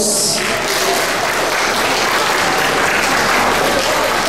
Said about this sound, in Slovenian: Bravo, en močen aplavz.